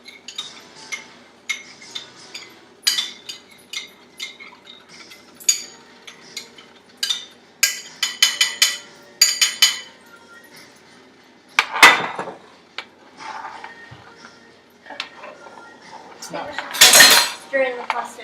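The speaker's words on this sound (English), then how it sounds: "Separately stir it in a bowl." A utensil scrapes and clinks against a bowl while a basil and pasta mixture is stirred, giving irregular bursts of clattering close by, mixed with occasional voices in the room.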